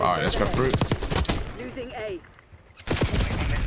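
Krig rifle fire in Black Ops 6, heard as dense bursts of sharp, loud shots through the first second and a half and again near the end, with a player talking over the gunfire.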